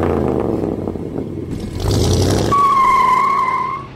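A 1951 Chrysler New Yorker with Fluid Torque Drive driving on the road, a loud low engine rumble from inside the car, then a sustained high tonal whine from about halfway through.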